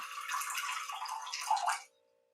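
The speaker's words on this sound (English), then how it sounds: "we're also going to put some water in here, which will help give us some extra liquid" Water pours from a container into a bowl for challah dough, a steady splashing stream for about two seconds that stops abruptly, close and fairly quiet.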